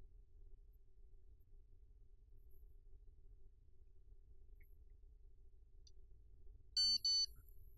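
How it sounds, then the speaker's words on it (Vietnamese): Phone text message notification tone, two short bright electronic chimes near the end, clear and close over a faint low hum in an otherwise quiet room. "Giờ này mà ai gửi tin nhắn vậy?"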